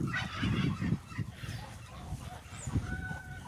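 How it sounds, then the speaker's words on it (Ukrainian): Newly hatched ducklings settling in on a small farm, with loud clustered peeping and fowl calls up close at the start, then a softer, steadier run of chirps with bright thin whistles later. "Ну ось, новоспечені качечки вже на місці."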